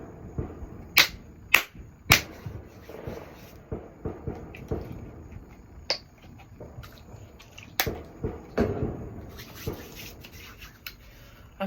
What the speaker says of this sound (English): Excuse the fireworks that you may or may not hear in the background.